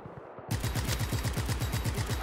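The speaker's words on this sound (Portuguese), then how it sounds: "Acerta o tiro, pelo amor de Deus, Rico." Rapid automatic gunfire in the video game Just Cause 3, a loud, close burst of evenly spaced shots starting after a short pause and continuing to the end.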